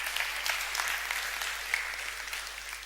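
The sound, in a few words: audience applause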